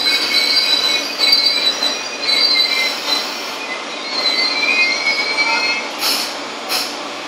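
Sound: non-stop train passing through the station

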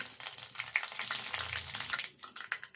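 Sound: mustard seeds, cumin and dried chillies frying for tempering

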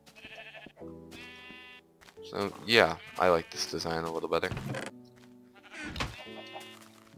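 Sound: sheep bleating in the video game Minecraft

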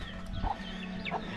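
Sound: chickens clucking in a village

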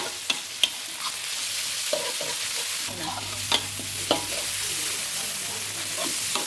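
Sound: pork belly being stir-fried with spices in a pan

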